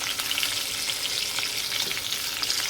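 Slices of pointed gourd (potol) fry in oil in a pan with a steady, close sizzle and a faint stir now and then, and no talk over it.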